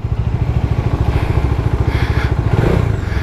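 A Bajaj Dominar 400 single-cylinder motorcycle idles at a standstill, its engine thumping in a fast, even pulse, close and loud with no talking.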